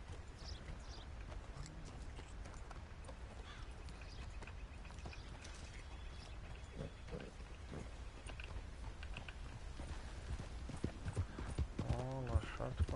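Horse hooves clip-clop steadily in Red Dead Redemption 2, a rhythmic trotting patter under ambient outdoor game sound, with someone speaking over it and a louder stretch near the end.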